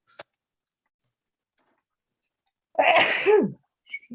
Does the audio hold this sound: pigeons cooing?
no